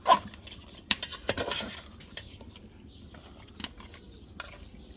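Mutton being stirred in a cooking pot at home: a sharp metal clatter opens, followed by scattered scraping and clinking of a utensil against the pot, then sparse, quieter knocks.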